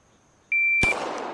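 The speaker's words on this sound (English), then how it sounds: "we're going to see how quickly we respond to the beep" A single sharp electronic start beep from a draw-speed timer in the ACE VR shooting game, a clean steady tone lasting about half a second, followed immediately by a loud burst of noise.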